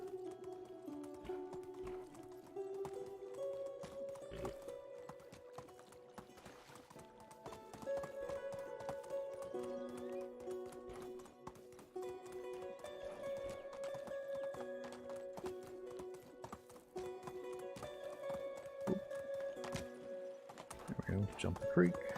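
Horse hooves clip-clopping at a steady gallop in the medieval video game Medieval Dynasty, a continuous rhythmic patter carried under game music and ambient sound, with a voice talking over it.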